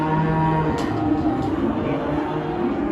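Cattle lowing at a Moss Vale saleyard, several steady moos layered over a constant background of milling livestock, close and loud, with no talk.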